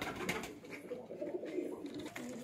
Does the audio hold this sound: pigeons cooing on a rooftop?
yes